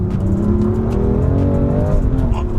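A BMW M2 Competition's engine drones loudly and up close while driving on a bumpy road, its pitch climbing and settling in a continuous, smooth growl with no voices over it.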